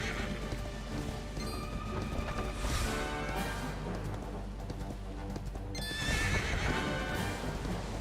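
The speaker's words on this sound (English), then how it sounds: "I'm trying to get my fucking horse." A horse whinnies twice in Dragon Quest XI, sharp neighs rising over a steady clip-clop of hooves and a rain-like background wash, with no talk.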